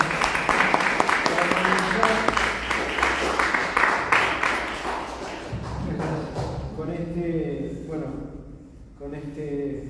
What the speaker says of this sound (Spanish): Un aplauso podemos hacer.